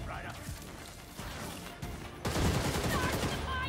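Enemy gunfire crackles in the action game Gotham Knights, rapid bursts that swell louder partway through, mixed with game effects while a player talks over it.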